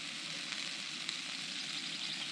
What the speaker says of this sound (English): The sizzling you can hear. Got a few sausages on the go.